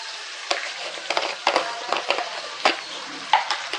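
Raw mango rice stirred in a pan, a spoon scraping and tapping the pan in a loose rhythm of short strokes, close and fairly loud, with a faint sizzle underneath.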